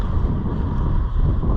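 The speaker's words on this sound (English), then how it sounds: "The wind gusts were kind of high today" Strong wind buffets the microphone in a steady, heavy low rumble at the Kennebunk Plains blueberry barrens in Kennebunk, Maine, with gusts pushing it louder throughout.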